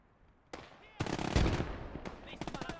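Machine gun fire in the WWII game Gates of Hell: Ostfront comes in loud, rapid bursts, starting with a single shot and building into a dense, rattling stream of shots with sharp repeated cracks near the end.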